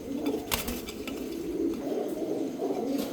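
Pigeons coo in front of their loft, a series of low, rolling calls repeating every second or so, close by and moderately loud, with no one speaking.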